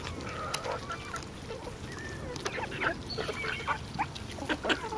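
Ducks quack and honk in short bursts while eating grubs amid busy pecking and scuffling, several birds close together, with chickens and a rooster calling nearby.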